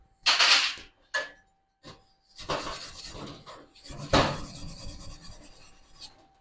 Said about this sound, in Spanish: Vamos a proceder a quitar nuestra escoria.